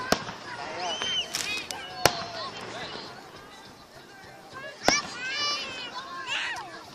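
Sharp, sparse bangs of fireworks, three distinct cracks spread out over several seconds, with children's voices and chatter around them.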